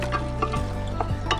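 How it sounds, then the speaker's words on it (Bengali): Chopped onions go into hot mustard oil in a pressure cooker, giving a close, steady sizzle broken by a few quick scraping stirs against the pot. "পেঁয়াজটা ভালো করে ভেজে নেব।"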